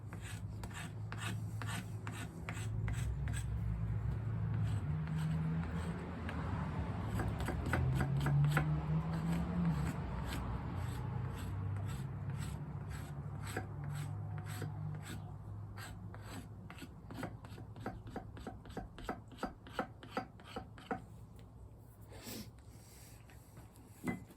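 A TOPS Tom Brown Tracker knife scrapes along wood in a rasping, continuous rub, then switches to quick repeated short strokes, close and clear with no talk.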